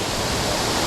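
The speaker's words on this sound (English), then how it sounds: "Here's the waterfall." The waterfall at Cederock Park gives a loud, steady, close rush of falling water, continuous and unbroken, with no voices.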